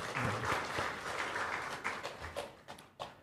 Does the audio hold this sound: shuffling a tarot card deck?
no